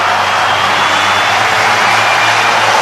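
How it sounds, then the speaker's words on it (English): A home crowd applauds at a cricket match, a loud, dense and sustained wash of clapping and crowd noise with no single voice standing out. "And a deserving applause from his home crowd."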